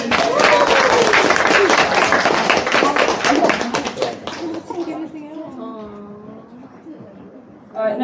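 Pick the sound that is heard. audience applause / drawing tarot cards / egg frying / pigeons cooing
audience applause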